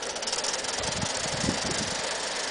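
A model Mikado steam locomotive pulls six Bachmann coaches up a four degree grade from a dead stop, giving a steady close mechanical hum with soft rapid chuffing rattles throughout.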